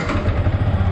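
A Yamaha R15 with the BS6 engine thrums steadily from its exhaust at idle, loud, close and low-pitched, with no one talking.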